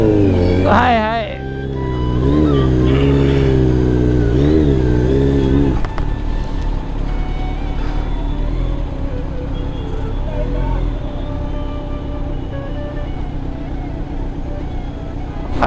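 A petrol vehicle engine revs up and down in several rising and falling surges, then settles into a rough steady running drone, loud and close, with people talking over it.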